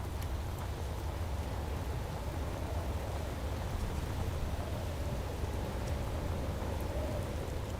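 Rain pours down steadily in a modded video game world, a constant dense hiss of drops with a low rumbling undertone, unbroken and fairly loud, with no voices over it.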